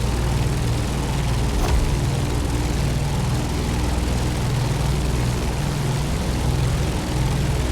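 A propeller aircraft engine drones steadily in flight over Hawaii in the racing game The Crew Motorfest, a continuous loud low hum with a broad airy roar and no talk.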